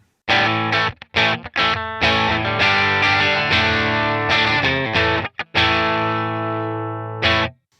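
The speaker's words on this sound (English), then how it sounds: "this is what the clean tone sounds like with the bridge pickup" An electric guitar on a clean tone with the bridge pickup plays short riffs and chords with a bright, slightly driven edge, punctuated by brief pauses between phrases.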